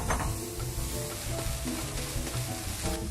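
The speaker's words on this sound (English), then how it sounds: "We're just going to let them get in their own juices until those go translucent." Chopped vegetables and celery sweat in a hot pan with a steady, close sizzle and a few stirring scrapes, with no voices.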